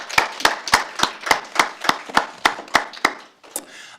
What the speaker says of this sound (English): another round of applause for Gemma.